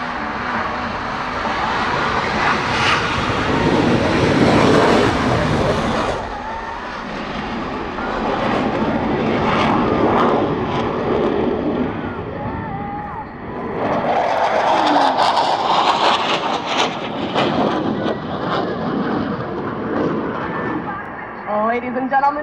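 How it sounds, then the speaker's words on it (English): A military jet, an F-16AM, makes a dirty takeoff and roll at the Yeovilton air show, its engine a loud sustained roar that fades and then surges again, with a commentator's voice over it. "watch and listen as Captain Porteous takes off with a dirty takeoff"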